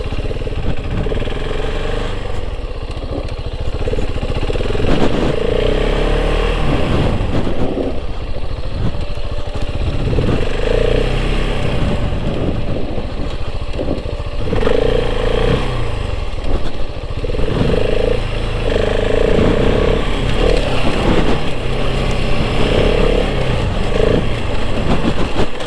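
A 2026 KTM 690 Enduro R single-cylinder motorcycle ridden on the moors gives a continuous engine drone with repeated throttle rises and falls as it revs, loud and steady throughout with wind noise underneath.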